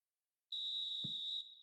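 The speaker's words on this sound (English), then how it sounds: "There's the whistle for half-time" Referee whistle blows for half-time in a Premier League football video game simulation of Brighton versus Liverpool, a single steady shrill blast of about a second, with a brief low thump partway through.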